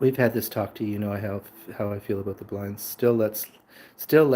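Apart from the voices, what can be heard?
No everyday noises stand out.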